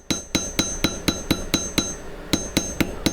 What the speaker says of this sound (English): So you can simply take that and start hammering on the wire